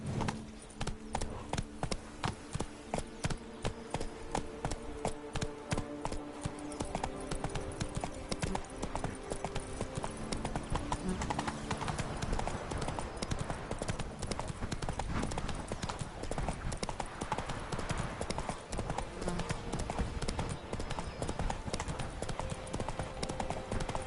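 Horse hooves clip-clop in a steady, brisk rhythm throughout, loud and close, in The Witcher 3: Blood and Wine video game, with a low game music drone underneath.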